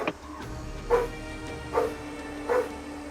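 A dog barks three times at an even, unhurried pace, each bark short and clear, over a low steady background hum.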